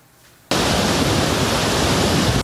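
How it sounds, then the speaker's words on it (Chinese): Torrent of water rushing out of a full Shihmen Reservoir after typhoon rains, a sudden loud, steady roar that begins abruptly, holds at full force for about two seconds and then stops. "汹涌水流奔腾而出"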